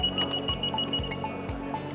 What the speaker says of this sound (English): it's going to sound an alarm